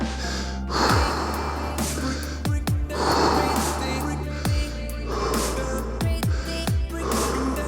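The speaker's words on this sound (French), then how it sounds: "Et on respire profondément." Slow, deep breaths during a stretching workout, with long audible inhales and exhales repeating in a steady rhythm, close and clear.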